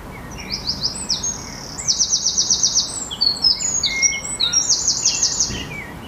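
Baby blue tits chirping close by, a busy overlapping chorus of thin, high trilling calls repeated in quick bursts against a quiet background.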